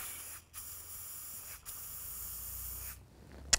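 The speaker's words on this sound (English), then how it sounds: "I'm just gonna spray it into the cap." Rust-Oleum flat protective enamel sprayed from an aerosol can into its cap, a steady hiss in three short bursts with brief pauses between them, close and fairly quiet.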